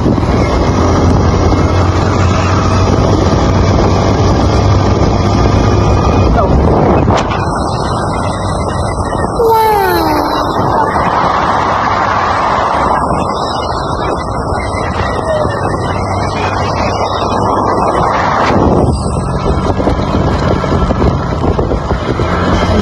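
A motorcycle rides along a road on Mindoro in the Philippines, with steady engine drone and heavy wind buffeting the microphone throughout, a rider's voice calling out briefly in places.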